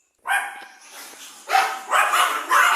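Small Pomeranian dogs bark in high, sharp yips close by, a rapid run of overlapping barks that grows louder toward the end with no talking.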